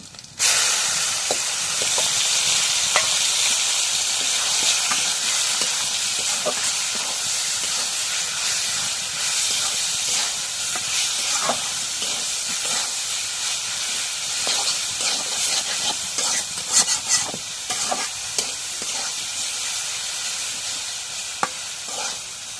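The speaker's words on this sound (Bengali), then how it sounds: "এখন মরিচ পেঁয়াজ রসুন ভাজা এরকম শাকগুলো দিয়ে" Leafy greens fry in a pan with green chilies, onion and garlic, a steady close sizzle and hiss of oil with scattered clicks and scrapes of stirring, continuing throughout with no talking.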